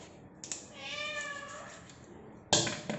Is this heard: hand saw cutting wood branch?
no